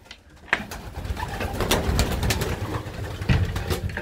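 Pigeons cooing and fluttering around a homemade trap and feeder, with a dense mix of soft coos, wing flaps and sharp taps over steady low background noise.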